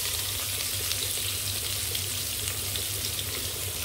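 Thinly sliced onions fry in a pan, a dense, steady close sizzle that continues evenly throughout.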